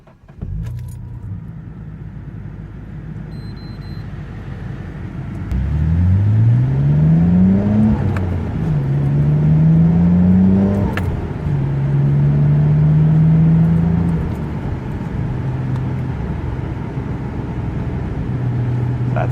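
A 1990 Nissan Skyline GT-R engine idles, then revs up in several rising sweeps as it pulls away and shifts, a loud nearby throaty drone settling back to a steady cruise.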